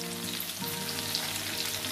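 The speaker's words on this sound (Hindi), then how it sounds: "अब इसको थोड़ी देर तक फ्राई कर लूंगी।" Hilsa fish fries in a pan with a steady, close sizzle and crackle, alone and without talk, with a faint hum underneath.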